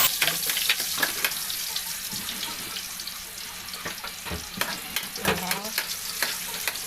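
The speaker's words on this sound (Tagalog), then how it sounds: "Umpisahan na po natin maggisa po ng sibuyas po muna mga katry." Onions sauté in a kawali for ampalaya con carne, with a bright, constant sizzle broken by frequent spatula scrapes and knocks against the pan.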